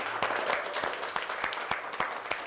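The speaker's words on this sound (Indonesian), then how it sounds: "Ya, tepuk tangan." Schoolchildren in a classroom clap after an exercise session, giving a fairly quiet, patterned burst of clapping with sharp, evenly spaced claps standing out over lighter scattered ones.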